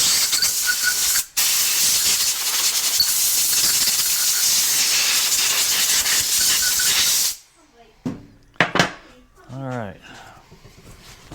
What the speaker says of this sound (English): I'm going to blow it dry.